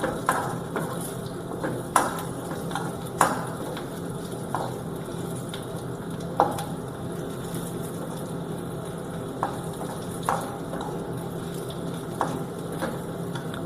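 Dried chillies frying in a pan for a chilli chutney: a steady low sizzle with occasional sharp crackles and pops spread through, close and moderately loud, with no talking.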